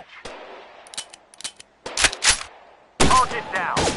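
Video-game gunfire on a shooting range during a hostage training drill: scattered single sharp shots, then denser close, loud bursts toward the end.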